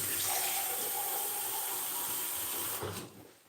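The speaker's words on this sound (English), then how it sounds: "I'm actually probably going to add just a little bit of water to that, just to make sure it doesn't burn to the bottom." Water pouring into a cast iron Dutch oven holding ham casserole, a close steady hissing stream that trails off near the end.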